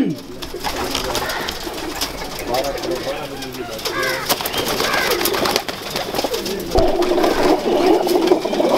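Pigeons coo in repeated soft, rolling throaty calls at a rooftop loft, close by and fairly loud, with rustling and faint background noise throughout.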